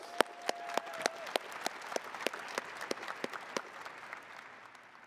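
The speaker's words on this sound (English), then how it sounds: "Please join me in giving them a round of applause." Audience applause at a graduation hooding and diploma ceremony in a large hall, sparse sharp individual claps standing out over a softer roomy bed of clapping that slowly thins toward the end.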